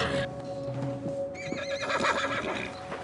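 A jumpy police horse neighs loudly nearby, a long shaky whinny over a busy background with faint hoof clatter and no speech.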